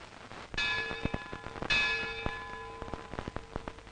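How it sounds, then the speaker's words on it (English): The historic Lutine bell at Lloyd's of London rung twice, two clear resonant strikes about a second apart, each with a long ringing decay that overlaps the next, with faint knocks and shuffling in the room behind. "In a case of such importance, the historic lutein bell is rung. Once would be for a loss, twice means that the ship is all right."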